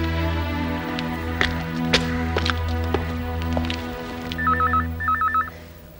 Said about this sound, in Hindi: जयदेव प्लीज जरा फोन सुनो।